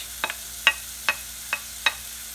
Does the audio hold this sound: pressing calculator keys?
no